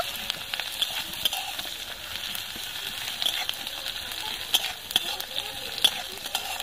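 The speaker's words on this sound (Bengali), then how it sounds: "1 চিমটে হিং দিচ্ছি, পেঁয়াজটা একটু সোনালী কালার করে ভেজে নেব।" Chopped onion frying with a pinch of asafoetida for a semolina snack gives a steady, soft sizzle with occasional faint crackles and stirring scrapes, close and fairly quiet, with no talk.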